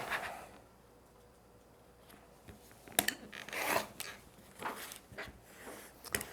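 Quilt fabric pieces are cut apart, with scissors making several rasping, crunchy snips in quick bursts at close range, separated by brief quiet pauses and light handling rustle.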